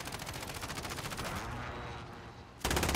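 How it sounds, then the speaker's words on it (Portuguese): Rapid bursts of automatic gunfire from a video game, loud and continuous, fading briefly before another sharp burst breaks in at the end. "Ele tá atirando num cara lá."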